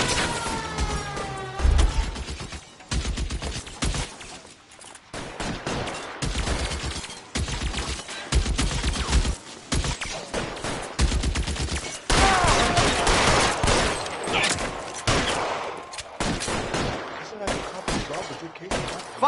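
Dense gunfire rings out in a shootout in the crime video game LA Noire: loud, continuous bursts of automatic fire and single shots with breaking glass, while voices shout over the shooting.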